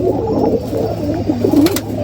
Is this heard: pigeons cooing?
yes